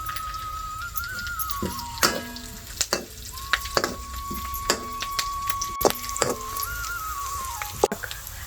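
Curry leaves dropped into hot oil crackle and sizzle up close, with sharp pops and utensil clinks, while a thin whistling tone rises and fades in the background.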